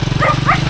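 A dog barks loudly and close, two short gruff barks over a low engine rumble on the way to a mountain trailhead.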